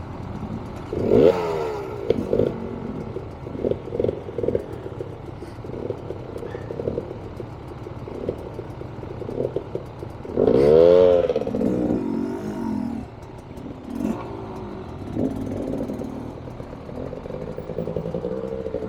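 A Rieju 300 MR Pro dirt bike ridden on a late-January trail: the engine revs and bogs repeatedly, loud and close, with throttle blips, clutch work and rising bursts between steadier running, no voices.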